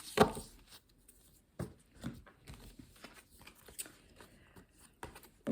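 Playing cards drawn from a deck during a reading: a few soft, separate flicks and slides spread out, close and quiet, with short silent gaps between them.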